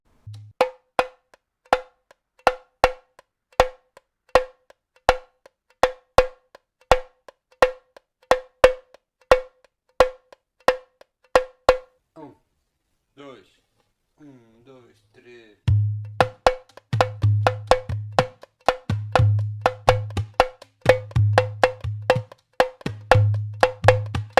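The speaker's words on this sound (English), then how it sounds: "we will use our finger to get a smoother sound by pressing the drum head between strokes" Tamborim played in a samba pattern, sharp evenly spaced stick strokes with short quiet gaps, then strokes muffled by a finger pressing the drum head, giving a deeper, smoother tone.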